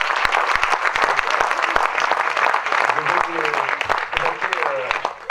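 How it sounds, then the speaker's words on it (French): A crowd applauds athletes at a reception honouring sports achievers in Saint-Sever, with dense, steady clapping, faint voices underneath and a few higher vocal sounds near the end. "Donc on peut les applaudir pour ça."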